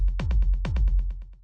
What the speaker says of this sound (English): The first effect that we have here is a simple delay